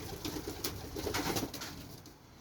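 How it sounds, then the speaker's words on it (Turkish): Soft, muffled cooing and rustling of a young pigeon close by, a low steady murmur of bird sounds with no talking. "Bu da yavru bir kuşumuz çakmaklı."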